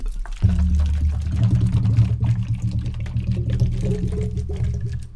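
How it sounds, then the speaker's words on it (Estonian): Water gurgles and glugs as it drains from one plastic bottle into another through a tornado-bottle connector cap, a close, lumpy stream of bubbling pulses lasting several seconds. "vesi liikus ühest pudelist teise mulksudes."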